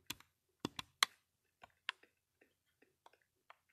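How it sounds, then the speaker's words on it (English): Game controller buttons click during a Minecraft Bedrock stream on Cubecraft: a handful of sharp, close, dry clicks, a few quick clusters and then sparser taps, fairly quiet, with no talk. "One of them controller clicking sounds."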